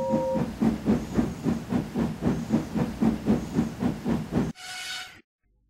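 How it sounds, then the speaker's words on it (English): A steam locomotive pulling an express train chuffs rhythmically with regular loud puffs, then a sharp steam whistle blows briefly before the sound cuts off. "Gordon steamed in with the express"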